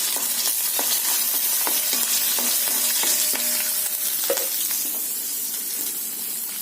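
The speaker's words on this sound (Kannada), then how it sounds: "ಮೆಣಸಿನಕಾಯಿಯನ್ನು ನಾವು ಕಟ್ ಮಾಡಿಕೊಂಡು ಹಾಕಿ ಫ್ರೈ ಮಾಡಬೇಕು" Cut green chillies fry in a pan for a ridge gourd chutney, giving a steady close sizzle broken by repeated stirring scrapes and taps of a spoon against the pan.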